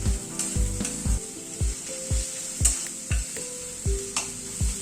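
Crushed spices and onions are stirred in a frying pan, with repeated scraping strokes of a spoon at a steady rhythm over a constant close, bright sizzle. No one speaks.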